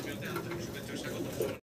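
Stone-eyed pigeons in a loft coo softly and steadily at close range, with a faint background murmur.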